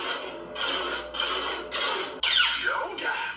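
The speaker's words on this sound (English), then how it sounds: "The second button does the blaster bolts." Blaster bolt effects from a SabersPro High Republic-style Quantum lightsaber, several bright electronic zaps and swooping tones in quick succession, fairly loud and close with no talking.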